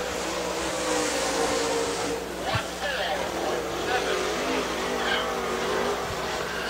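A super late model race car roars around Dixie Speedway on a qualifying lap, its engine loud and continuous with a brief sharp knock midway, while a voice talks over it.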